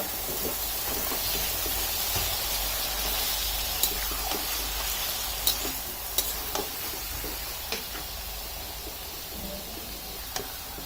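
Spiced chicken filling with ginger paste and chili powder is stirred in a pan, a soft steady sizzle underneath with scattered light scrapes and clicks of the spoon against the pan.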